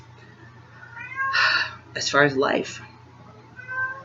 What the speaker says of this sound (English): You can hear the cat meowing in the background.